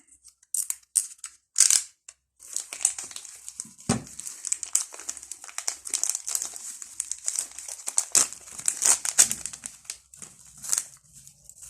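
A crinkly plastic packaging bag is torn and ripped apart close up, giving bursts of sharp rustling and crackling with brief pauses and a dull knock partway through.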